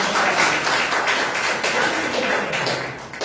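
Congregation clapping together in a church service, a loud continuous patter of many hands in quick rhythm close by.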